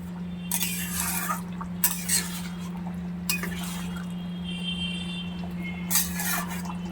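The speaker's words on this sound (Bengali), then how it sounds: "এবার একটু নেড়ে দেব" Malabar spinach curry with roasted cumin powder is stirred in a pot, a utensil scraping and clinking against the metal in short bursts over a steady background hum.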